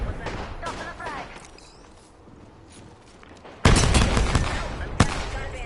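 Bursts of video game gunfire break in loudly after a stretch of softer combat noise and voices, first as a sustained heavy volley and then as a second sharp burst near the end.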